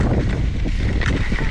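Strong wind at the top of a ski ridge at Kirkwood buffets the microphone, producing a loud, continuous rumbling gust noise that surges and fades unevenly throughout.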